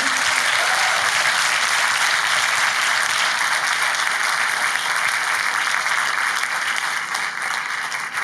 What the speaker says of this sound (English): We have a final round of applause for these amazing